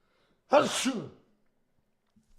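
A single sharp sneeze, a quick inhale bursting into a loud expulsion, followed by silence.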